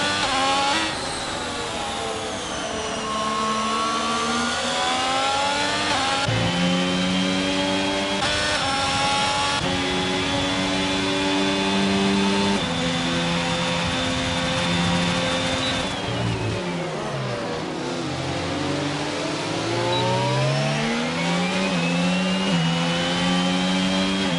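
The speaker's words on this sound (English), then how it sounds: "See, revving up the engine quite early." Formula 1 car engine in the F1 22 racing game revving hard throughout, a continuous high whining roar with rising and falling pitch sweeps as gears change, loud and steady with no talk over it.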